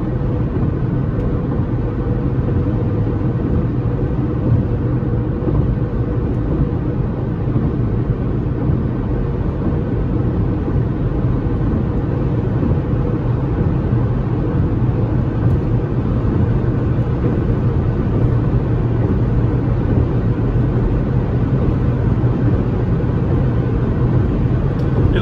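A 2022 Jeep Compass Longitude T350 takes tight curves, its engine giving a steady, low droning hum mixed with road and cabin noise, continuous and unchanging throughout, with no one speaking.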